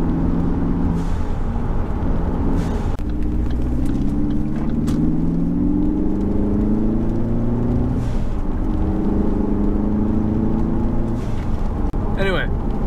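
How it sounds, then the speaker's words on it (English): A Ford Focus ST with a Boomba blow-off valve revs up and down repeatedly, with rising and falling engine tones under a loud steady drone. A brief hiss sounds near the end. "It has a Boomba blow-off valve."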